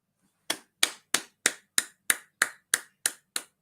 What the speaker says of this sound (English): We need to clap for ourselves.